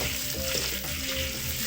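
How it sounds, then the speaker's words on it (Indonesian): Chili peppers fry in hot oil with a dense, steady sizzle and faint crackles, heard close and alone. "Goreng cabenya juga nggak usah lama-lama,"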